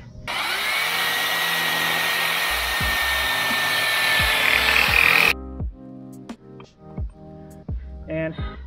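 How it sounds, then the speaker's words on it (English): A power drill whirs steadily and loudly for about five seconds, drilling out a plug-welded flywheel spacer on a BMW M52 engine, then cuts off, followed by scattered metallic clanks and knocks. "all you have to do is drill that out"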